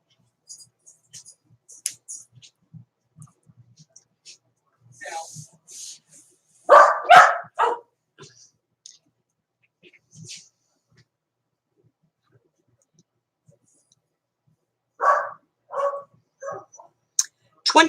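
Dogs barking in sharp bursts at a late-night outing, a few loud close barks and yips separated by quiet gaps, with faint whimpers and scattered small sounds between.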